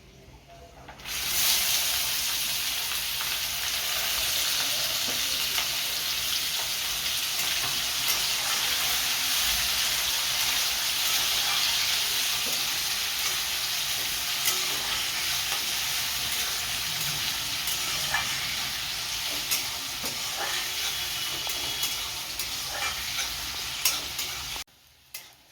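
Beans and carrots fry in a hot pan for a fried rice dish, giving a loud, steady, close sizzle with occasional stirring scrapes throughout.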